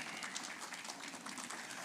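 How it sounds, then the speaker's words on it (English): Audience applause at a Ministry of Education ceremony celebrating CTE month, a steady, distant wash of clapping hands lasting throughout, fairly faint and even. "Let's give him a round of applause"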